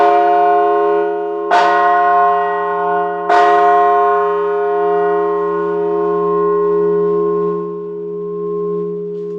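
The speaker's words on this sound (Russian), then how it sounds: "В старину вообще колокола известно, что они лечили своими вибрациями." A large church bell at the Pyatkov and Co. bell foundry in Kamensk-Uralsky is struck twice, a few seconds apart. Each loud, close strike blooms into a deep, sustained humming resonance that slowly fades, with no voices.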